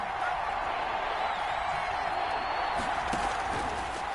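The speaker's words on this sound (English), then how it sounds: "Crowd getting in it a bit already." Stadium crowd noise in a football video game, a continuous broad roar of fans building during a third-and-ten, with faint whoops and claps rising near the end.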